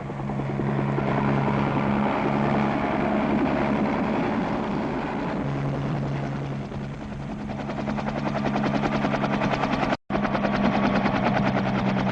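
A helicopter roars steadily overhead, its rotor chop and engine whine loud and continuous throughout, with no voices.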